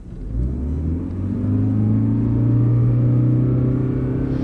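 A car in power mode pulls away and accelerates, its engine rising in a smooth whirring drone that builds and holds loud and close, with no talking over it.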